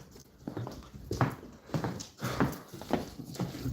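Foster puppies move around indoors, producing a series of soft, irregular padding and scuffling sounds at close range, fairly quiet with small gaps between them.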